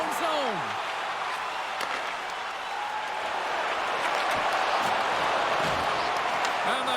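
Video game crowd noise from a German DEL ice hockey match between Eisbären Berlin and Nürnberg Ice Tigers: a steady, loud wash of arena applause and cheering runs the whole way, with brief voices and a few sharp sounds in it.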